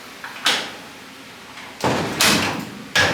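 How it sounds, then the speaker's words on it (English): A 1958 Chevy Apache pickup door swinging open and sagging on a worn hinge, heard as a sharp metallic clunk followed after a pause by two more heavy knocks as the door drops and is pushed back up, close by, no talking. "When I open this door, you'll watch it, it's gonna drop, okay?"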